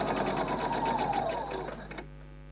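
Sewing machine stitching piping onto dressmaking fabric, a steady close rapid whirring that runs for two seconds and then stops.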